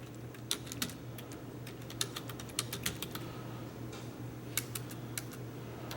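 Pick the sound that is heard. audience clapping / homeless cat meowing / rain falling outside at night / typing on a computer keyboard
typing on a computer keyboard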